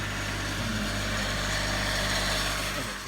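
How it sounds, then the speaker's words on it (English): A loud tractor engine passes close outside, a steady broad rumble that holds strong throughout and eases slightly at the end. "some loud ass tractor just rode by"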